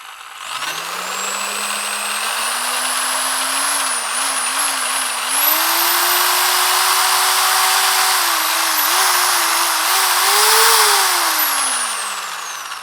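A Bosch GSB 13 RE corded electric impact drill whines loudly at no load, starting at low speed, then climbing in pitch as the RPM rises to full speed before winding down.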